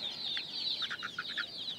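Backyard chickens kept on a residential rooftop alongside pigeons give a short run of soft, quick clucks over a steady high chirping background, fairly faint and with no talking.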